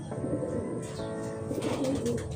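Pigeons coo steadily nearby, soft throaty calls repeating over a constant outdoor hum, with no voices.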